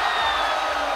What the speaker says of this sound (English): this crowd is definitely pumped up